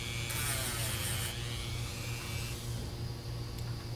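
A rubber wheel buffs burrs off guitar bridge saddles with a steady, close grinding hum and a brighter high rubbing hiss early on, continuous with no talk.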